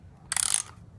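A ratchet clicks in a quick burst of about a dozen sharp ticks while tightening during an oil change on a 2014 Harley-Davidson Iron 883 motorcycle, close and clear over a quiet background.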